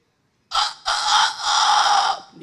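A rooster crows loudly and close by in a harsh, hoarse series of three drawn-out calls, with no talking over it.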